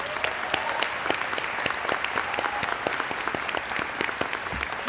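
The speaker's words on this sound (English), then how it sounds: "Let's give them a round of applause." Steady applause from an audience at a 2017 College of New Jersey elementary and early childhood education commencement, honoring Phi Kappa Phi honor society members; dense, even clapping throughout with sharper individual claps standing out.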